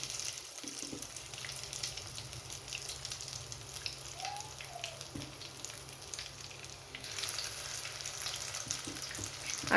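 Food frying gently over low heat in a home kitchen pan, a soft continuous crackle and sizzle with faint scattered pops and a brief clink, steady and fairly quiet with no talking.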